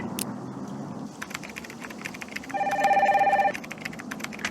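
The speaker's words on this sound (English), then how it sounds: "Get the phone, please." An old-style telephone bell rings in a Nancy Drew video game, one bright, steady burst of about a second, following a stretch of soft clicks and tapping.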